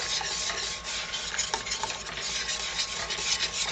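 Butter melts in a pan for a lemon meringue pie while a utensil stirs it, producing a continuous soft scraping and rubbing with faint sizzle and a few light taps, close up and without talk.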